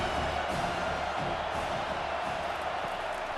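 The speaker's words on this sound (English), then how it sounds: "Decibels rising as the crowd gets behind this defense on 3rd down." Stadium crowd in an American football video game roars steadily for the defense on third down, a dense, sustained wash of cheering with no break across the whole stretch.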